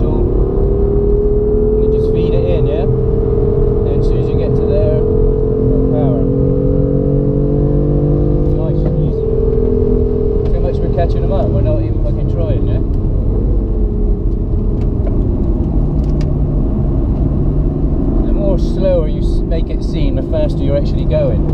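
A BMW M4 race car on the Spa circuit roars steadily as it powers out of a corner, the engine loud and close, with someone talking over it throughout.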